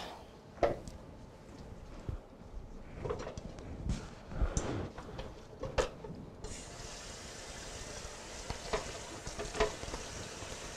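Bay leaves being stirred into a simmering pot on a home stove, with scattered spoon scrapes and knocks against the pot over a steady low sizzle, closer and fairly quiet, no talking.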